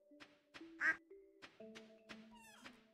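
A farm duck in a farming video game gives several short quacks amid soft electronic game chimes and sustained musical tones.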